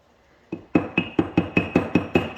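A 16-ounce ball peen hammer strikes a car part being prepared for painting, beginning with one blow, then eight or nine more in a steady rhythm, each a loud, close, ringing metallic hit, with no speech.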